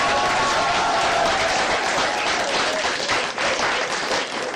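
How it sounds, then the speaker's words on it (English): Audience applause at a quiz show prize ceremony, a loud, sustained roar of many hands clapping that fills the room, easing slightly near the end. "I would invite all of you to put your hands together and applaud Julius Patamia."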